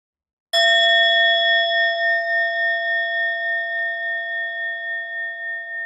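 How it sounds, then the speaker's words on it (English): A single bell strike rings out clearly, its bright tone sustaining and slowly decaying with a gentle wavering shimmer, alone in silence. "And as I invite the bell, I will offer 3 contemplations"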